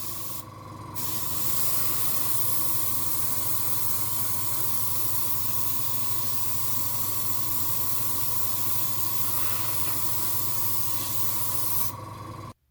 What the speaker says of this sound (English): I'm going to be applying a base coat of Vallejo Model Air Steel